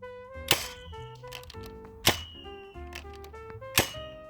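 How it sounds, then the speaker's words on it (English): A Nerf Mega Magnus blaster firing Mega Darts gives three sharp, loud cracks about 1.5 seconds apart, each followed by clanking and ringing mechanical rattles between shots. "fully loaded up with 3 Mega Darts, some flat shots, some angled shots"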